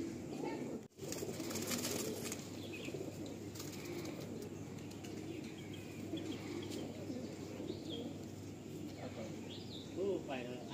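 Madrasi pigeons coo softly in a loft, with occasional chirps and wing flaps mixed into a dense background while people talk nearby.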